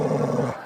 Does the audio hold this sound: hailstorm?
no